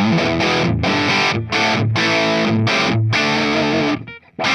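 Heavily distorted electric guitar through a Mesa Boogie Mark IIc amp model on a Tonex ONE, playing chugging rock chords with short pauses between phrases, loud and saturated, ending with a brief quiet gap.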